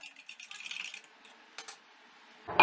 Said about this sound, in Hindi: ग्लास में डालेंगे बर्फ